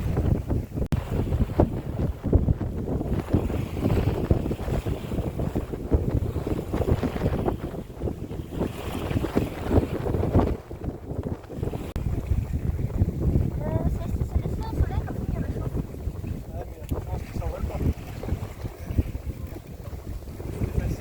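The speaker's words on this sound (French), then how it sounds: "on a le vent qui arrive quasiment face au bateau" Steady wind buffeting the microphone over the rush of a sailboat sailing close-hauled, wind nearly head-on, moving through water, with waves slapping the hull continuously.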